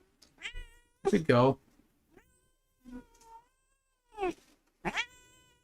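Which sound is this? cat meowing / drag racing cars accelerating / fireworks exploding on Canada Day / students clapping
cat meowing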